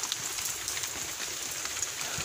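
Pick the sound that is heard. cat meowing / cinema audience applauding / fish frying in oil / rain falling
rain falling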